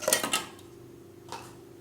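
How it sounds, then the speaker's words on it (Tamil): Ice cubes dropped into a mixer jar already holding milk and sugar for cold coffee, giving two quick hard clinks near the start and a softer knock later, close and fairly loud. "ஐஸ் கட்டி போட்டுக்கோங்க,"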